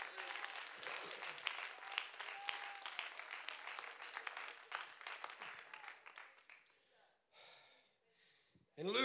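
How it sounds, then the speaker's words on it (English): A church congregation claps their hands, a scattered patter of many hands that comes and goes, mixed with breaths and murmured voices and dropping away near the end. "Clap your hands to him"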